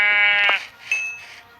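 A sheep bleats nearby, one loud wavering call followed by a shorter, fainter second bleat in an open outdoor setting.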